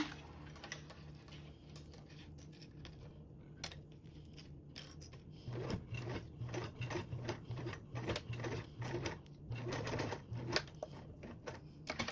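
A sewing machine with raised tension top stitching through webbing for a sling strap, with quiet clicking and handling at first, then a rapid steady mechanical chatter of stitching that starts and stops in short runs.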